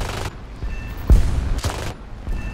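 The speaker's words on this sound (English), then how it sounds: "Gotta remember to do burst fire. These guns fire fast." D.500 aircraft guns in the War Thunder video game fire several short, rapid bursts, close and loud, separated by brief gaps of lower engine rumble.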